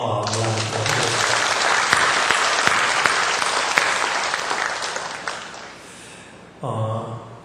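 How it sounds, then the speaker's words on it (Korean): A church congregation applauds its choirs during an afternoon service, a broad sustained clapping that swells and then fades away, with a speaking voice before it and again at the end. "우리 박수로 고마움을 나누고"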